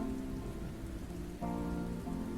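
Steady rain patters down in an even, close wash with a brief dip partway through, continuing alone without voices.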